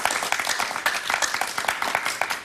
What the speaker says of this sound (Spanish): un aplauso para José Antonio